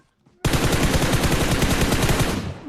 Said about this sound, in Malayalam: വെടി വെക്കുന്ന അത് അനന്യ.